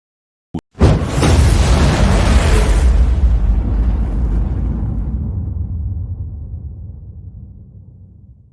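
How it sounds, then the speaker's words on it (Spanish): A sudden sharp bang followed by a heavy, roaring explosion that rumbles on and slowly fades over several seconds, loud and close. "Otra explosión atronadora resonó por toda la arena."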